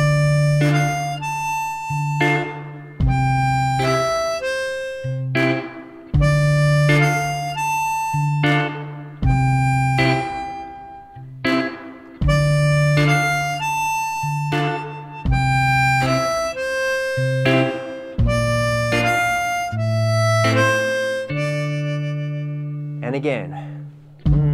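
A diatonic harmonica plays a simple beginner melody, alternating draw and blow notes on holes four and five. Steady, reedy sustained tones move in a clear rhythm with short breaks between phrases, up close and alone.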